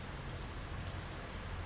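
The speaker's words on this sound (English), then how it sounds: "Good old rain" Steady rain falling in the city-building game Workers & Resources, a continuous even hiss with a low rumble beneath, ending in a brief louder click.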